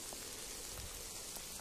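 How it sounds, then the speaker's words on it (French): Rain falls steadily outdoors with a constant, even hiss and patter on surfaces, faint but continuous, with no voices. "Et la pluie redouble, c'était sûr."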